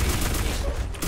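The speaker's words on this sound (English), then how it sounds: "He's shooting me through the smoke." Dense, rapid gunfire in the online shooter Black Squad, close and loud, rattling continuously through a short burst.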